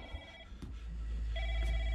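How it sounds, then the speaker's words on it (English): A telephone rings indoors in two short, quiet bursts of bright electronic tone separated by a brief gap, with a faint low room rumble underneath. "I guess it's a phone."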